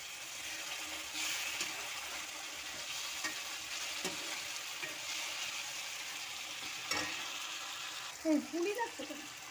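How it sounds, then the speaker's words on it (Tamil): Brinjal curry frying in oil is stirred in a pan, producing a soft continuous sizzle with scraping stirs and a few louder clinks near the end, heard close but at low volume, with no talking. "ஒரு பெரட்டி விட்டுடலாம்."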